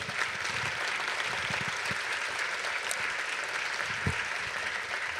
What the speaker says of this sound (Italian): E credo che le vada un applauso proprio per questo.